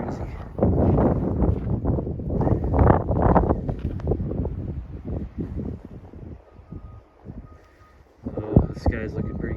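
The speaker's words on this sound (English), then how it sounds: "this wind is crazy." Strong gusting wind outdoors in winter around sunrise buffets the microphone in loud rumbling surges that ease off briefly before another heavy gust hits, with someone speaking at moments.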